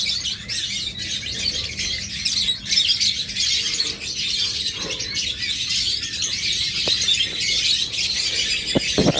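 A flock of violet opaline top-marking pet birds keeps up a steady, busy chorus of high chirps and chatter close by, with a few sharper squawks, and no one speaks.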